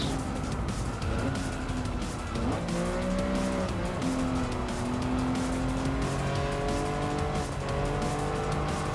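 A 1988 Lamborghini Countach 25th Anniversary races in Gran Turismo, its engine a loud, steady roar with rising and falling pitch as it accelerates and shifts, tire squeal mixed in and no talking.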